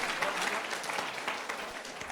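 Applause from an audience at a live memory-training session held at a wedding, steady dense clapping filling the short stretch without pause.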